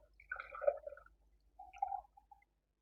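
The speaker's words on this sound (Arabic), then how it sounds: "واصفي الميه منها خالص" Water drains out of a kitchen jar of soaked grains in two short gurgling, splashy pours separated by a brief pause, close and fairly quiet.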